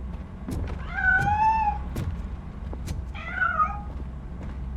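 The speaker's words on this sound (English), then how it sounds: "That cat must be hiding inside." Two distinct meows from a cat in the RoboCop Rogue City video game, the first drawn out around the second mark and a shorter one later, over a low steady background hum with a few soft thumps.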